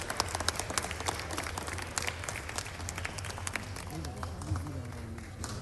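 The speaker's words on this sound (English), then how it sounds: "give all of those in attendance today a round of applause" Applause in a House legislative chamber session, a steady patter of many hands clapping at moderate distance, with faint voices emerging toward the end.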